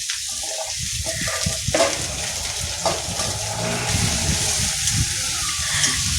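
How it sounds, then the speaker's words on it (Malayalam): Chopped onion dropped into hot oil with reddened garlic sizzles loudly and steadily in a pan, a dense close frying hiss with a few clattering stirs and no talk. "ആ വെളുത്തുള്ളി ഒന്ന് ചുമന്ന കടലായി വരുമ്പോഴേക്കും നമ്മൾ അരിഞ്ഞു വെച്ച സവാള അതിലേക്ക് ഇട്ട് കൊടുക്കുക"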